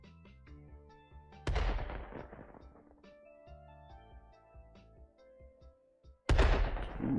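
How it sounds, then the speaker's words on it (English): Super explosions in the Golf With Your Friends video game, two sharp loud blasts with decaying rumble amid plinking game sound effects. "Have to set off the super explosions each time."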